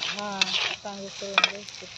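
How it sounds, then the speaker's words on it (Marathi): Green chillies frying in an iron pan give a bright hissing sizzle with a few sharp stirring clinks, while a steady tonal hum or voice-like drone sits underneath throughout. "मिरचीला चांगली आपल्या मस्तपैकी तळून घ्यायची मित्रांनो"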